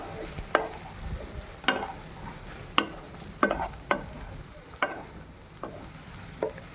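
Sabudana khichdi stir-fried over low heat in a pan, with a soft background hiss and repeated sharp scraping strokes of a spatula at irregular intervals.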